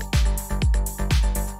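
A techno synth lead pattern plays under four heavy, booming kick drums that thud at an even pace, with tonal layers ringing between the hits.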